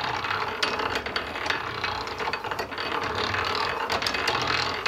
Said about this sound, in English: that operates a linkage that moves the ratchet paw and moves the ratchet wheel